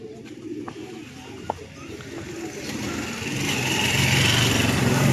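Racing pigeons coo softly at a derby loft in Ilagan, Isabela, faint throaty calls over a steady outdoor drone that grows louder toward the end, with a single sharp knock partway through.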